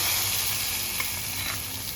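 Fried tempering poured into a tapioca and sardine curry gives a steady, close sizzling hiss that holds through the moment without any talk.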